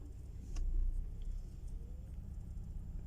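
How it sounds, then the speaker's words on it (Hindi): A six-cylinder car engine idles roughly, vibrating hard with a steady low rumble that swells briefly near the start and then holds at a constant, fairly quiet level. "ये 6 सिलेंडर गाड़ी है और ये देखें अभी बहुत ज़्यादा वाइब्रेशन कर रही है, थरथराहट कर रही है"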